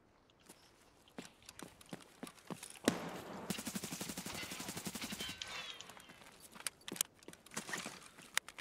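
Sustained automatic bursts from an RPK machine gun in Escape From Tarkov, rapid rhythmic fire lasting a few seconds in the middle, with scattered single shots and footstep-like clatter before and after.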